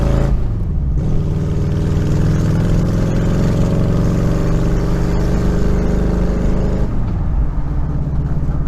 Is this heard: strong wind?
no